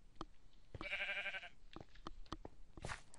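A sheep in Minecraft gives a single short bleat amid scattered game clicks and footsteps, fairly faint overall.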